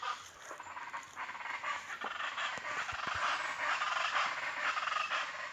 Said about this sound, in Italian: Ascoltare qui la ciaccialaca, che è un uccello tipico qui che si trova nelle montagne.